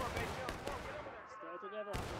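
Musket fire in the Civil War video game War of Rights, with sharp rolling gunshot cracks from a volley at the start and another burst at the end, and a voice in the background.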